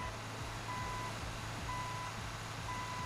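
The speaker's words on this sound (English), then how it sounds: "I would pick waterboarding over the backup beep" A truck backs up in GTA 5, its reversing alarm beeping in a regular slow series of clear tones over a low engine rumble, fairly faint and alone.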